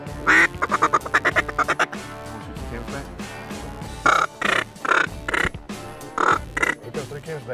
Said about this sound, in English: All through the hunt today, we had ducks in the sky.